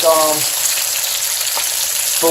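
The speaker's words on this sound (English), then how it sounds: "We're going to take the salmon and we're going to put it skin up. We want to sear it." Steady sizzling and crackling of salmon searing in a hot pan, with brief bits of voice at the start and end.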